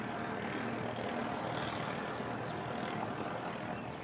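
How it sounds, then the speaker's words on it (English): Jetstar airliner departing Christchurch Airport for Auckland, a faint, distant, steady engine rumble and roar with no talk over it. "So Jetstar 236 heading up to Auckland. Turn and burn."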